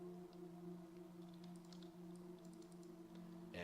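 Keys being pressed on an in-game keyboard in Fingerbones, a handful of light, scattered clicks over a constant low electrical hum.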